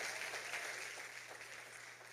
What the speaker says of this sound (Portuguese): aplauda o Senhor pela vida dele